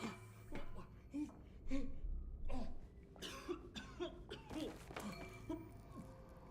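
Several short, muffled coughs and throat clearing sounds from the video game We Happy Few, in irregular bursts, fairly faint against a quiet background.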